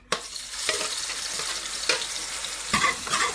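Onion paste sizzles and fries in hot mustard oil with cumin, a steady close crackling hiss broken by a few sharper bursts as it is stirred.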